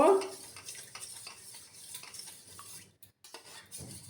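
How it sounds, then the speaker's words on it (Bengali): Three raw eggs are beaten in a bowl, producing a rapid run of light utensil clicks and taps against the bowl that briefly stops near the end before resuming. "ডিমটাকে ভালো করে আমি এবার ফেটিয়ে নেব।"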